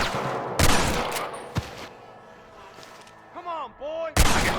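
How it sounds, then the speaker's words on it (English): Gunshots ring out in the Wild West video game Red Dead Redemption: a few sharp, loud cracks spaced irregularly, with a brief shout between them. "I can hear more gunshots."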